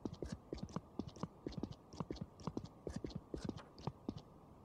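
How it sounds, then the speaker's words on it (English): Footsteps crunch on gravel in the first-person video game Survived, a quick, steady run of crisp steps close by with no talking. "Sounds like I'm constantly walking on gravel here."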